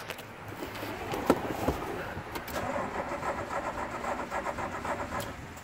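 A carbureted DeLorean with a mechanical fuel pump cranks and catches, then settles into a close, rhythmic idle with steady pulsing beats.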